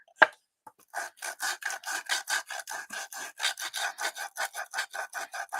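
Wood being sanded with sandpaper, rhythmic back-and-forth rasping strokes, about twenty of them, steady and close, starting after a single knock, with no talk.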